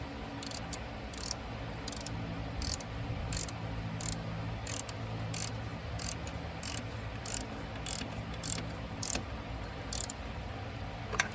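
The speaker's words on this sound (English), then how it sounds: "switch the direction on the ratchet" Rapid ratcheting clicks from a socket ratchet with a short extension turning water pump bolts on a 2008 Hyundai Santa Fe, close and in repeated bursts over a low steady hum, with no talking.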